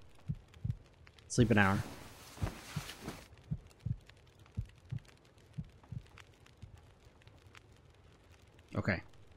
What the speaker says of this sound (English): Heartbeat stopped.